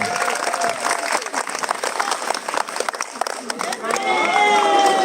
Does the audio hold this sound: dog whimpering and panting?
no